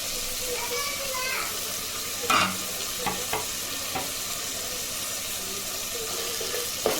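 Softened onions with fresh mint and coriander fry in a pan for paneer kaju pulao, a soft sizzle broken by a few sharp scrapes and knocks of a stirring spoon, with faint background murmur.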